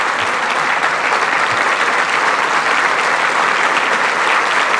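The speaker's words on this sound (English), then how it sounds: "Would you give me a huge, huge Baylor round of applause for Paul?" A large audience at a campus dedication ceremony gives a sustained, loud round of applause, dense clapping that holds steady for the whole stretch with a faint crowd murmur underneath.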